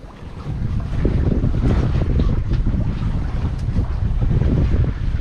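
Loud wind buffets the microphone while water rushes and splashes against a sailboat under way, a constant roaring wash with no voices.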